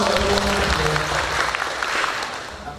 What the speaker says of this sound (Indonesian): Kita aplaus untuk kita bersama